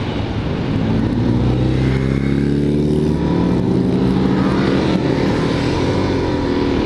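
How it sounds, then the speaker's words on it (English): Motorcycles pass on a twisty road, their engines droning loudly and continuously with rising and falling pitch as they ride by under strong wind rush, no voices heard. "I'm gonna let these guys on the bikes go by me here"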